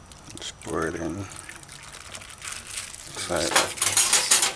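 Coconut milk is poured into a pot for cooking bammy, a soft liquid trickle and splash heard near, under a person talking.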